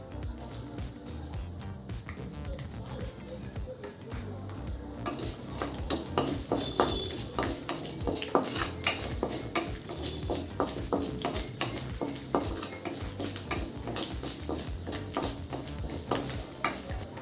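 Garlic cloves and urad dal fry in a pan for tomato coriander chutney. A steady sizzle runs underneath while a metal spoon scrapes and clinks against the pan in a continuous stirring rhythm that grows busier after the first few seconds.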